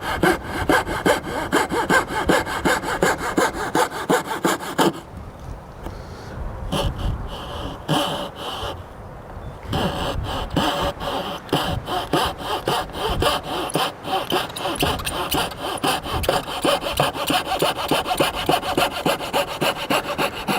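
Hand saw cutting through a wooden trim piece held at a bevel, steady rapid back-and-forth strokes running nearly continuously and close up, with a brief pause in the middle before the sawing resumes.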